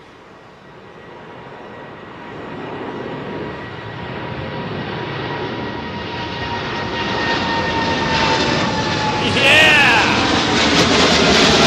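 Turkish Airlines jet departing overhead from runway 09R at London Heathrow, a roar that swells steadily louder as it passes close above, with a whining engine tone and a voice shouting briefly near the peak.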